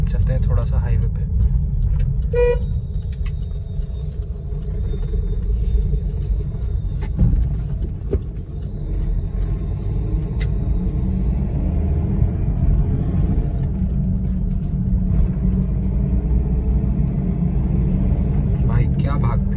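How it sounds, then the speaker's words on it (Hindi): A steady low engine rumble and road noise from a 2015 Volkswagen Polo with a 1.5-litre diesel engine cruising at speed on a highway, continuous throughout with no talking. "इंजन थोड़ा सा आपको नॉइजी लगेगा लेकिन डीजल इंजन है"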